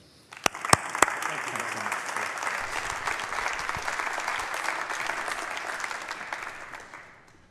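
Warm audience applause at a university alumni symposium as William Snyder is welcomed to the podium, opening with a few sharp claps, then a steady, full sound of many hands that fades out gradually.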